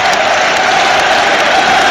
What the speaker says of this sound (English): He's getting a round of applause, Chris Mepham